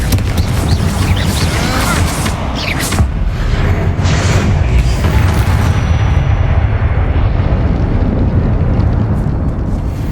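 A Confringo fire-blast spell in Hogwarts Legacy erupts as a loud, dense roar of booming explosive noise and crackle that sustains for about ten seconds, with brief sharper bursts early on and no talk.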